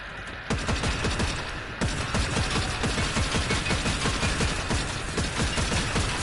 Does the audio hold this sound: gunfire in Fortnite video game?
yes